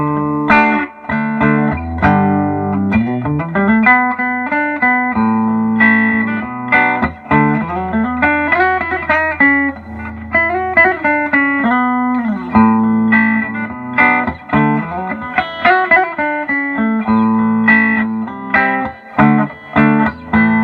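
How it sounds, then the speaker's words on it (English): An electric guitar plays through a custom 1968 Princeton Reverb amp set for heavy reverb, with melodic single notes and chords ringing into a washy tail, loud and continuous throughout with no voices. "Now, that's a lot of reverb in my book."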